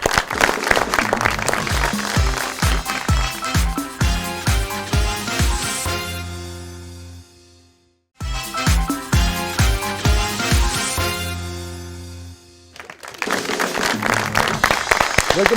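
Studio audience applause on a Pakistani TV comedy show, a loud steady clapping wash running throughout, broken by a brief near-silent gap midway and renewed swells, with a musical sting layered in.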